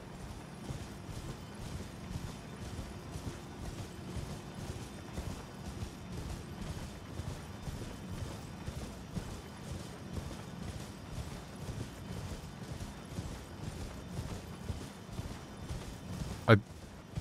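Horse hooves clop in a steady, continuous gallop while riding in the video game Elden Ring, fairly quiet and even for the whole stretch, with a brief sharp sound near the end.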